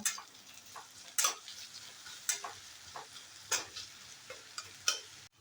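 Capsicum and onion frying in oil in a pan, a soft continuous sizzle punctuated by regular stirring clicks and scrapes of a utensil about once a second, fairly quiet and close, with no voices.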